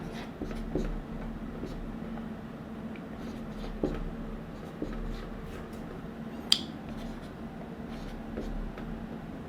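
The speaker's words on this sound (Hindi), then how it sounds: "तो अब इन 7 नंबर को मैं अलग अलग लिख रहा हूँ" Numbers being written by hand, with soft, close pen or chalk strokes tapping and scratching in a light, irregular rhythm against a quiet background hum.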